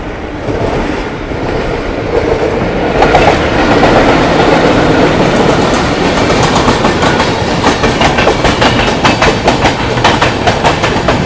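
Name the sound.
express train running alongside on tracks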